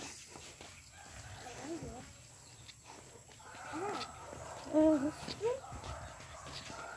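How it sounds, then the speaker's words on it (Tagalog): A few soft chicken clucks over a quiet outdoor background, with faint farmyard noise and low murmuring voices. "Talagang madami silang manok."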